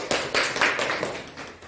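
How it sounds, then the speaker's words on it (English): A short burst of a few hand claps, sharp and close, trailing off after under two seconds; no talking. "Let's applause for your job."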